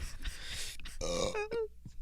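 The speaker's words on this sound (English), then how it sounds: "I keep burping." A person burps during a casual conversation, one drawn-out belch with a groaning, voiced tone, followed by a short grunt-like sound, close and fairly loud.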